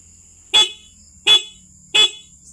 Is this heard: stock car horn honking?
yes